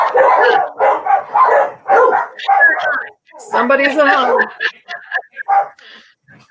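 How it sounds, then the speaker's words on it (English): Dogs barking indoors at home: a run of close, loud barks and yips with whimpers, while a person speaks over them. "There go my dogs."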